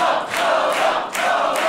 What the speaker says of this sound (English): The most predictable outcome has excited the crowd.